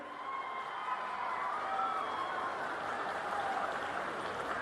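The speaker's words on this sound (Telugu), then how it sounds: "అవును అంటే గట్టిగా చప్పట్లు కూడా చెప్పండి." An audience at a political rally breaks into applause, a dense wash of clapping that swells and holds steady, heard from some distance with a faint crowd murmur underneath.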